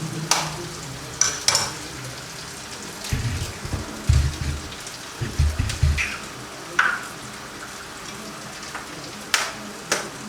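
Eggs go into a pan of cooking tomatoes and spices, giving a soft sizzle, scattered light spatters and a few low thumps of stirring, with no talk.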